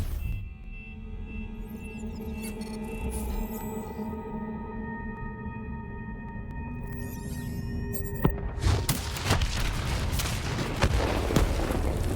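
Mid-battle in Black Ops 3, a detonated charge erupts after a long stretch of steady humming tones, giving a sudden broadband blast followed by a loud, rumbling and crackling tail.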